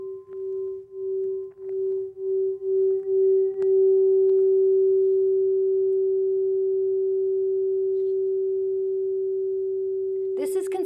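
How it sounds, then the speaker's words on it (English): A steady pure electronic sine wave tone hums alone, first pulsing in short beats, then holding as one continuous note before a brief noisy burst at the end. "this is considered a sine wave, which is an organized, perfectly aligned sound"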